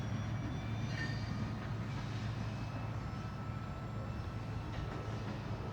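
A long freight train rolls steadily past during a roll-by inspection, its low continuous rumble and wheel noise filling the scene with a faint high metallic squeal, no voices heard.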